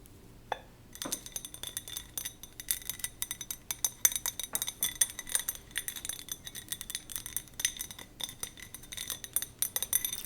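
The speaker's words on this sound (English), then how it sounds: "Some of you have asked where I get these containers, these glass containers." Glass containers clink and tap repeatedly as they are handled close up, with a busy run of small bright chinks scattered across the whole stretch at a quiet level.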